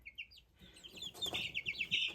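Young chickens, including a few roosters, in a brooder during evening chores: quiet high chirps and clucks, several birds overlapping and growing busier, close but faint.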